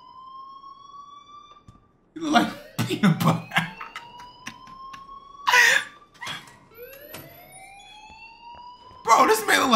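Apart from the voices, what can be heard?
fire alarm ringing in Life is Strange video game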